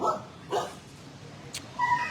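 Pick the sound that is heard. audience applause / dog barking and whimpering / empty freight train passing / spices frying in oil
dog barking and whimpering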